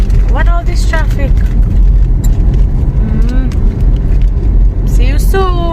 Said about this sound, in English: Kingston traffic. Friday morning.